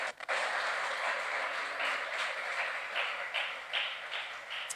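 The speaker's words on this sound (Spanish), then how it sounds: "Dele un aplauso al Señor." A church congregation claps during an evening sermon, a soft, distant patter of hands that keeps an uneven rhythm and surges in a few brief swells.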